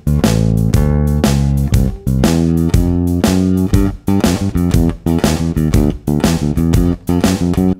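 A 12-bar blues bass turnaround at 120 BPM, electric bass with drums, moves in brisk, punchy plucked phrases with short breaks, loud and up front with no voices.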